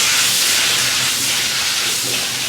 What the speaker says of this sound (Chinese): 下入豆角